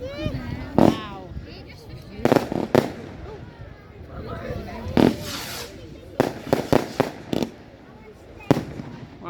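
Fireworks burst at a caravan park display, with a series of distant booms and sharp crackling pops at irregular intervals while people nearby talk and react over them.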